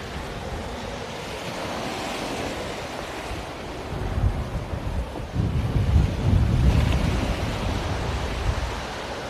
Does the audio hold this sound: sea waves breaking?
yes